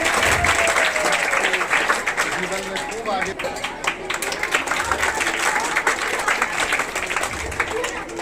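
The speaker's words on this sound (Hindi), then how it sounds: "जोरदार ताली जाइए" A crowd applauds loudly for a student at a school award ceremony. The dense clapping runs continuously and stays close and strong, with a little crowd noise mixed in.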